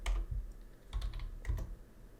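Quiet, close keystrokes on a computer keyboard while a command is typed, a few quick clusters of clicks with short gaps between them and no voices.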